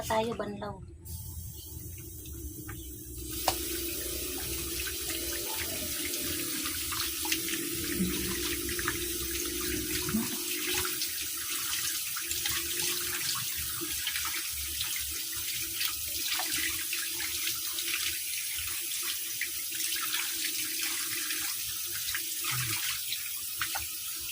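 Tap water runs steadily into a bath while two pets are rinsed, a continuous close splashing stream that goes on throughout while someone talks.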